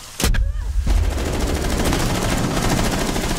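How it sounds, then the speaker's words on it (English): Rapid automatic gunfire in Rainbow Six Siege starts with a sharp close burst, then runs as a dense, continuous stream of loud shots with no pause. "Shoot it, Ash. It's on the hatch."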